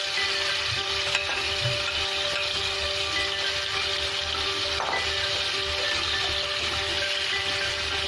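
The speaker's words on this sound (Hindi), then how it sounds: "हम गैस को हाई फ्लेम पर रखकर चिकन को फ्राई करेंगे।" Marinated chicken frying in a pan with half a tablespoon of oil over a high gas flame, giving a steady, even sizzle with a few soft clinks, close and moderately loud, and no talk.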